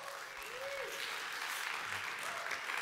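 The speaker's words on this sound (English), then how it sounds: "Give FubCon and all the organizers a huge round of applause." Audience applause fills a real estate conference hall, a steady dense wash of clapping from a large crowd that holds at an even level for a few seconds, with a faint tone drifting through.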